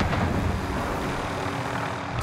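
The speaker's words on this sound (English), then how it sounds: "Helicopter behind us." Helicopter flying overhead in the video game Warzone, a steady broadband rotor and engine roar that holds at an even loudness throughout, with no talking.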